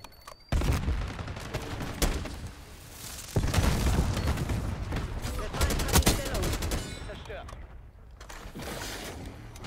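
Bursts of rapid gunfire from a slow-firing weapon in Call of Duty Black Ops 6, loud and close, with booms and background battle noise while a player talks over it.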